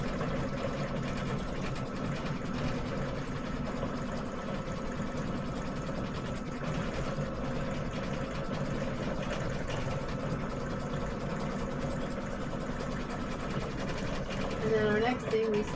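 An embroidery machine stitches a tea towel with a continuous, rapid mechanical whirring and ticking that holds steady throughout, while people talk over it.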